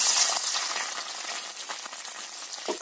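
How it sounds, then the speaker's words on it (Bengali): Coconut pieces sizzling in hot white oil in a wok, a steady, fairly loud crackling hiss with small pops that fades a little over a few seconds, no voices. "এই যে নারকলগুলো আমি পিস করে কেটে নিচ্ছি এগুলো হালকা করে ভেজে নেব"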